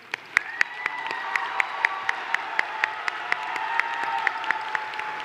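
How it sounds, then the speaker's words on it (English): A crowd gives a round of applause for graduates at a university commencement ceremony, sustained clapping and cheering filling a large space, steady and moderately loud with sharp claps standing out. "Round of applause for all of these amazing students."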